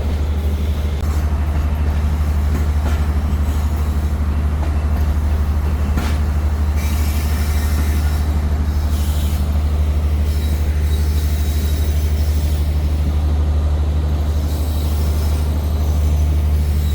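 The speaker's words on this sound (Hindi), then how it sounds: "5 मिनट स्टॉप के बाद रवाना हो रही है खानेवाल जंक्शन से" The Khyber Mail passenger train pulls out of Khanewal Junction with a constant loud low rumble of the carriages and some high wheel screeching mixed in. No speech is heard.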